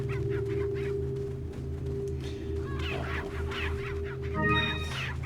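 Chickens cluck and squawk in the Resident Evil 4 video game, several short bursts of fowl calls over a steady low background drone, moderately loud.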